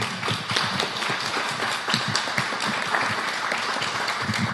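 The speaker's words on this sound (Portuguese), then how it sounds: "palmas pra Cátia, gente, por favor" Audience applause for Cátia Mezel at a gallery talk in Pernambuco, steady dense clapping from a room full of people, continuous and fairly loud across the whole stretch with no talk over it.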